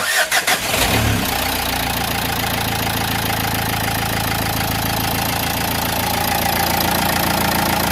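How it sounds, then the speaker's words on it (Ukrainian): A 2010 Renault Megane 1.5 diesel engine starting after a fuel filter change: a short cranking burst, then it catches and settles into a steady, loud, close idle. "Ну і пробуємо тепер заводити, чи прокачали ми солярку чи ні."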